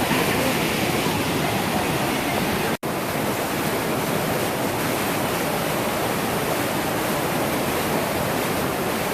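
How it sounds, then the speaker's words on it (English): A powerful spring at Tel Dan in northern Israel gushes like a river, a steady, dense, loud roar of rushing water that fills the whole stretch without letup. "It's just enormous gusher of water."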